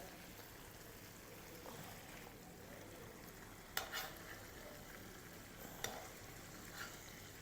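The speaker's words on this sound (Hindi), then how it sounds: "आपने मिसाले को तेल में भून लेना है" Spiced masala stirred and fried in hot oil with cooked chicken for Pakistani chicken tikka, a steady soft sizzle with occasional sharper scrapes of the spoon, faint and continuous with no talking.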